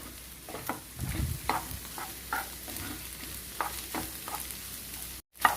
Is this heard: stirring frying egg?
yes